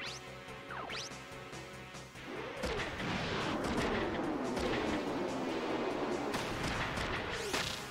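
Missiles detonating in Front Mission 3, a run of heavy, rumbling blasts that starts with thinner shots and swells into a sustained loud barrage, with streaking whooshes cutting through.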